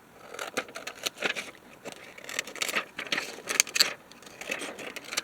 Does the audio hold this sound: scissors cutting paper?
yes